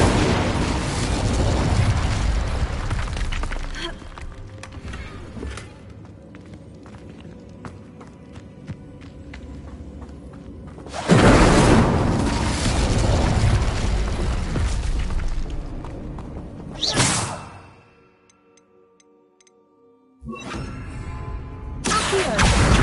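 Incendio fire spell cast in the Hogwarts Legacy game, heard as loud whooshing fiery bursts amid busy game action, with a sudden drop to near silence before the noise returns.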